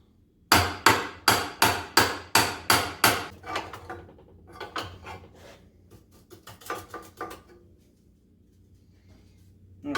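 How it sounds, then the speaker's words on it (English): Sharp hammer blows on a chisel against the front end of a 1967 Camaro: seven loud, evenly spaced metallic strikes, then softer irregular taps and scraping that trail off into near silence. "So, see if we get in here with a chisel."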